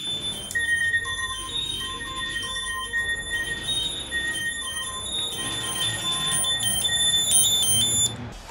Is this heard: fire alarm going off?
yes